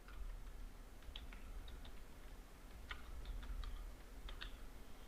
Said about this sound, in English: Now type your text